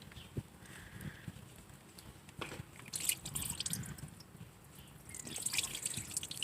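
Rusty coolant water drips from an engine leak on a vehicle with no heat and a bad head gasket, giving faint, irregular taps and small splashes over a low, steady hiss, with the dripping growing busier toward the end.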